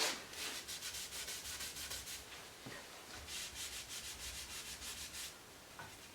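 A shop rag wipes excess glue off a wood joint on a hickory kitchen table, making repeated rhythmic rubbing strokes, close and fairly quiet, with no talking.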